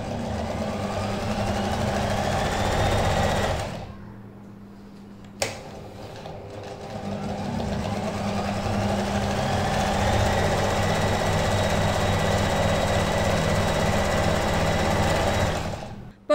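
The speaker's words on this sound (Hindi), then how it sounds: "जैसे जैसे जिस जिस शेप में आपने कट किया है उसी शेप में आपने पॉकेट की सिलाई लगानी है।" Sewing machine stitching a pocket onto a kurti, running in a steady close whirring drone that pauses briefly partway before resuming for a long continuous run, with no speech.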